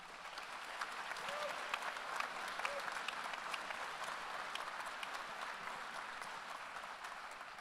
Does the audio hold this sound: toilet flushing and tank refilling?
no